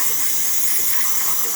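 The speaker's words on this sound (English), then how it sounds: "Once the thermal block reaches a nice steady temperature, it will produce a nice steady stream, as you can see right now on the machine." A DeLonghi Magnifica espresso machine's steam wand, just serviced with a new motherboard, lets out a loud, steady hiss of steam that runs continuously and close up, with no talk over it.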